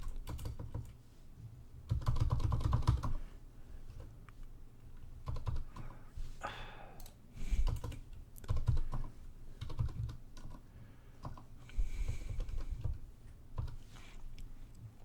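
Card details go in on a computer keyboard as rapid, close keystrokes in uneven bursts, with short pauses between groups of taps.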